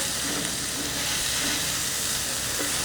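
Sausages sautéing in a pan with salt, pepper and crispy browned bits releasing liquid, producing a loud, steady, unbroken sizzling hiss close by.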